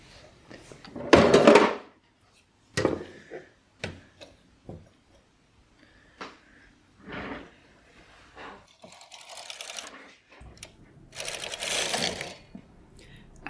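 A standard gauge knitting machine carriage dragged across the needle bed knitting bulky yarn, giving bursts of rasping, clattering mechanical noise separated by quiet pauses, close and uneven, with some faint clicks.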